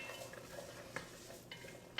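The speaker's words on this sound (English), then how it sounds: "And stir it around." A spoon stirs Trinity vegetables, chopped onion, celery and bell peppers, in a pot, giving soft faint scraping and a few light clinks against the metal over a quiet background.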